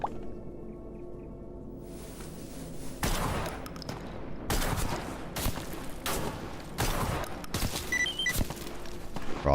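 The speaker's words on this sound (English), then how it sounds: "Who's shooting at me?" Gunfire in GAMMA STALKER, several sharp shots and short bursts at uneven intervals, loud and close, with quieter ambient noise between them and no talking.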